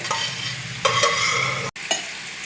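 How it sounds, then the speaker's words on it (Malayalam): Steady hiss of chicken frying in a pan, with a few scraping stirs and a brief clatter near the end; no voices. "നമ്മുടെ ചിക്കൻ അവിടെ ഇരുന്ന് നല്ല രീതിക്ക് മുരിഞ്ഞ് വരുന്നുണ്ട്"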